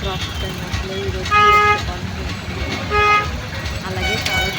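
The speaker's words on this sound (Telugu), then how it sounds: "చాలా ట్రాఫిక్ అయింది అసలు ఈరోజు." Busy road traffic near a petrol station, with engines rumbling and two sustained car horn toots standing out over the steady roar of passing vehicles.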